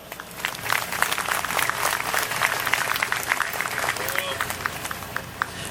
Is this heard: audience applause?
yes